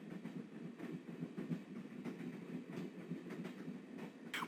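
Rolling train interior in the Broken Sword adventure game: a steady low rumble with rhythmic clattering pulses, continuous and moderately quiet, ending with a brief sharper hiss.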